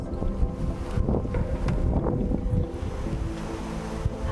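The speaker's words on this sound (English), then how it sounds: "we've got about 15-mile-an-hour winds out here." Outdoor wind of about 15 miles per hour buffets the microphone on a nature walk, a steady, close roar with gusty rumbles and no speech.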